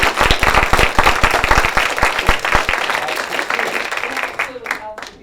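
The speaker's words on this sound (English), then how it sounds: "round of applause for Mary." A room of panel attendees at a film event for the movie "SpookT" gives Mary a round of applause: brisk, loud, close clapping that thins and fades out near the end.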